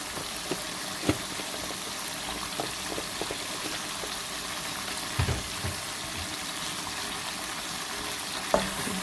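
Biryani masala with turmeric fries in a pan, giving a steady, even sizzle throughout, broken by a few soft scrapes and taps as it is stirred.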